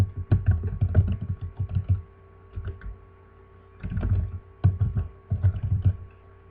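PHP code is typed on a computer keyboard as quick bursts of close, crisp keystrokes, separated by short pauses, over a faint steady electrical hum.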